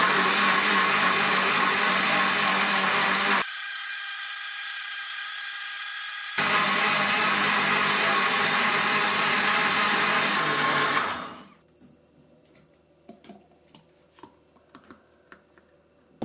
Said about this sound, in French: Ensuite, il faut mixer 30 secondes à la vitesse numéro 2.